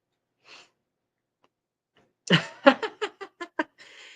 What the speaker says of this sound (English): I'm going to sneeze over here.